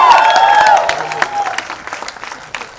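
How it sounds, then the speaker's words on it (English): An audience at a film promotion event for Runway 34 at an Inox cinema breaks into a loud burst of applause and cheering under an announcer's voice, the clapping thinning into scattered claps toward the end. "A loud round of applause"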